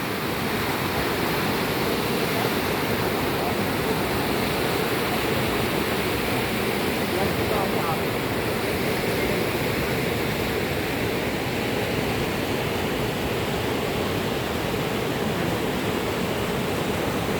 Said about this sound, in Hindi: कितना शोर है इस नदी में।